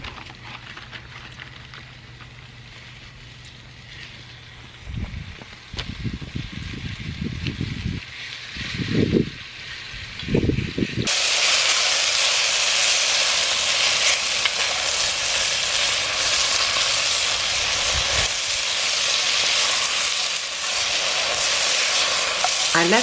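Flour-coated beef chunks hit hot oil in a Dutch oven over a campfire. A few bursts of rustling and stirring come first, then a sudden, loud, continuous frying sizzle that holds steady to the end.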